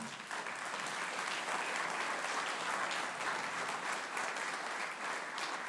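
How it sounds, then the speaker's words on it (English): An audience at a spring band concert applauds, a dense, steady wash of clapping from many hands that holds at an even level throughout. "so you can give them a round of applause"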